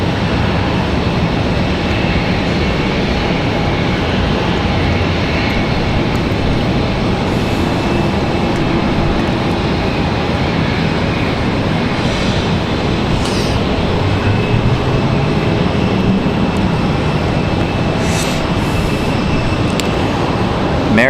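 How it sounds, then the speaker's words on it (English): Twin JetBlue Airbus A220 jets at the end of a runway at Raleigh-Durham airport, with a steady, loud, broadband engine roar filling the whole stretch and no clear spool-up or pass-by. "Got twin JetBlue A220s out there at the end of the runway."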